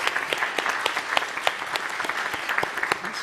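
A conference audience claps in a steady patter of many hands, moderately loud and sustained for a few seconds, without talking over it.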